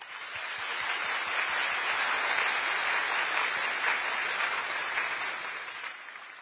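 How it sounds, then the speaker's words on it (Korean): Encouraging applause for public-service trainees from an assembled audience, a few distinct claps at first building into a full, sustained round that tapers slightly at the end. "여러분 다시 한번 우리 교육생들에게 격려의 박수 부탁드립니다."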